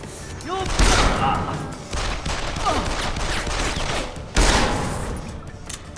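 Bursts of gunfire in the video game Deus Ex: Human Revolution, loud sharp volleys at the start and again near the end with rattling shots between, over game sound.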